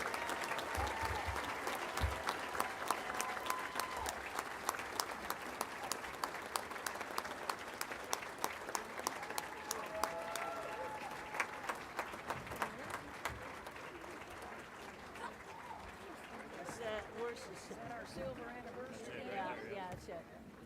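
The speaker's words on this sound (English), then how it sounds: "Let's give them a round of applause." Banquet crowd at a basketball hall of fame awards dinner applauding the silver anniversary women's team, sustained clapping with sharper individual claps standing out, a voice speaking over it near the end.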